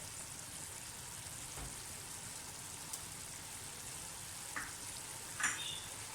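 Mutton for namkeen gosht sizzles gently in a pan with added butter, a soft, even frying hiss with a few faint pops and clinks and no talking.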